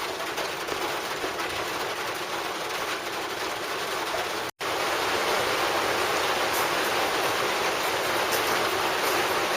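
Loud, steady rain pours down in a dense hiss, broken by a brief cut before continuing just as heavily.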